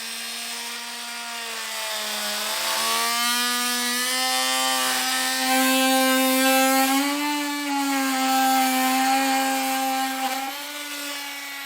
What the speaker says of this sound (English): I'm just going to be using a multi-tool today.